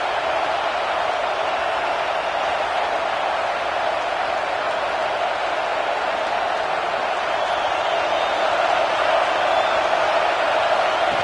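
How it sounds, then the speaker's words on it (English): A stadium crowd at a Texas A&M vs LSU college football game keeps up a steady, dense roar that holds at an even level throughout, with no single standout cheer. "Listen to the crowd energy here in the early going."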